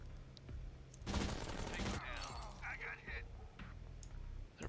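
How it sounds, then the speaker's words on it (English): Flashbang and gunfire in the tactical video game Door Kickers: a sharp loud burst of blasts and crackling shots over about a second, followed by scattered smaller impacts and game effects, with faint talk in the background. "On a flashbang going through there."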